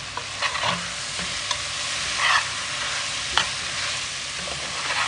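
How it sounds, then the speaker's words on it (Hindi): Red, orange, yellow and green capsicum sizzle in a pan with a steady, even frying hiss. A few soft stirring scrapes and clicks sit on top of it, close and fairly loud, and no one talks. "अब इसको हम लोग फिर से फ्राई करेंगे।"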